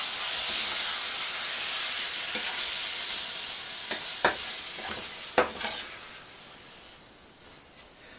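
Chicken and vegetable stir fry with a tangy Mexican sauce being stirred in a hot pan, a constant loud sizzle and hiss with scraping strokes of the utensil scattered through, the sizzle easing slightly toward the end.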